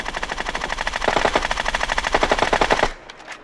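Sustained automatic gunfire from a machine gun in the Free Fire mobile shooter, rapid and loud in one continuous burst of nearly three seconds, then cutting off to a few faint clicks.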